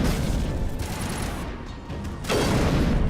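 Gunfire in the Mass Effect Legendary Edition video game: a dense, loud fusillade of rapid shots that dips briefly midway, then resumes in a heavy burst.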